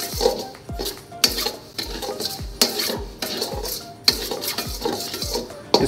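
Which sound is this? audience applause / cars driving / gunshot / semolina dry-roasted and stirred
semolina dry-roasted and stirred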